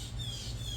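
A brief harsh squawk from a blue jay in the distance, over a steady low background hum.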